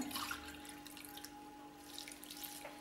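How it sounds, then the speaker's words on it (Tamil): Water poured into a cooking pot to boil mint, a soft, steady trickle close by with a faint hum beneath, quiet and unbroken. "2 கப் தண்ணி ஊற்றிக்கோங்க."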